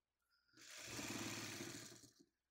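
A sewing machine stitches the last long seam of a woven quilt block, a steady close mechanical whir that starts abruptly, runs evenly for about a second and a half, then stops, with no talk.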